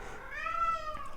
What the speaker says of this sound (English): And you can hear my cat right now.